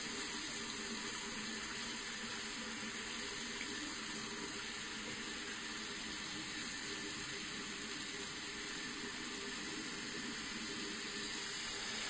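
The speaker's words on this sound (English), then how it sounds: "turn on the hot water, let it run." Hot water runs steadily from a sink tap, a constant loud rushing and splashing that fills the whole stretch without pause or change.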